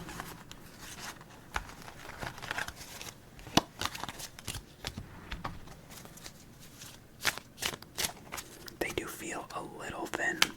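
A deck of thin, inexpensive paper playing cards is shuffled up close in a quiet room, with crisp riffling bursts and soft flicks repeating in irregular rhythm, plus faint whispering and light handling noises between shuffles.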